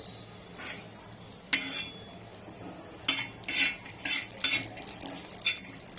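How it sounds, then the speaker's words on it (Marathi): Grated coconut dry-roasted and stirred on an iron griddle, quiet scraping and clinking of a spatula in irregular strokes over a faint background hiss, no talking. "वाटण भाजताना शक्यतो लोखंडी तव्यावरच भाजायचं"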